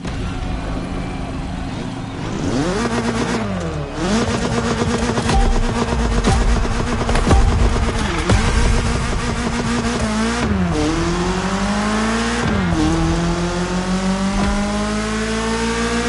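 A BMW M3 in The Crew Motorfest revs hard and loud, its engine note climbing and dropping through repeated gear changes and bursts of acceleration, with a brief tire squeal along the way.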